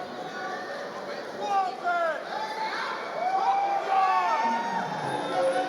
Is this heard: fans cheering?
yes